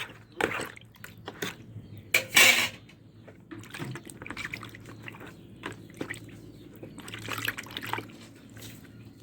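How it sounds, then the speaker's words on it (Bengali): Rohu fish being rinsed in hot water, with irregular splashes, drips and trickles close by and occasional clinks against a pot or bowl. "এই পোনা মাছগুলো গরম জল করে ধুয়ে নিচ্ছি"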